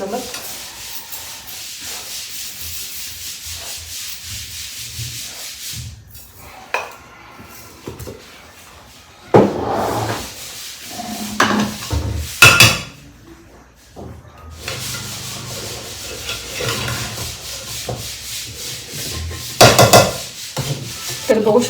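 Amla and jaggery stirred in a pan on a stove over low heat, with intermittent scraping and rubbing strokes of a spoon against the metal and a faint sizzle, louder bursts coming in irregular waves.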